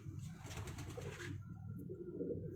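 A pigeon coos softly in a low, brief murmur, close but faint, with a short burst of rustling noise at the start.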